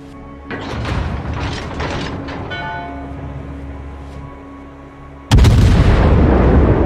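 Scharnhorst battleship guns in World of Warships: mechanical whirring and ratcheting as the turrets work, then a sudden loud, sustained booming salvo near the end.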